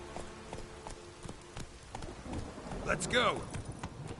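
Roach the horse's hooves clip-clop at a steady, close rhythm in The Witcher 3, with a brief whinny partway through and someone talking over the hoofbeats.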